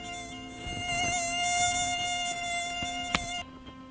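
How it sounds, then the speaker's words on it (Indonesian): Mosquito whining with a steady high-pitched buzz, close and continuous for several seconds before it cuts off, with a sharp tap near the end. "Nyamuk adalah serangga berbahaya karena dapat membawa dan menularkan penyakit"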